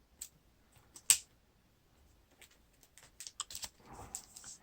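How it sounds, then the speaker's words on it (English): A deck of Lord of the Rings card game cards is shuffled close up, with scattered soft clicks and taps building into a denser flurry of card flicks toward the end. "Shuffle the encounter deck."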